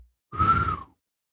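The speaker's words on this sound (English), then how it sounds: "I whistled just for you." A single short, breathy whistled note from someone who can barely whistle, airy and thin, lasting about half a second between silences.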